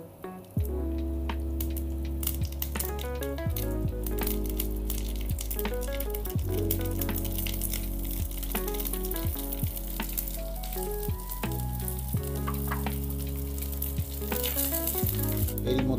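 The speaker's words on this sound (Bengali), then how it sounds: "ওই তেলেই আমি 1 চামচ সর্ষে দিয়ে দিচ্ছি, সঙ্গে দিচ্ছি" Mustard seeds and curry leaves sizzle and crackle in hot oil for upma, a bright steady hiss full of quick pops, heard close, with sustained musical tones playing underneath.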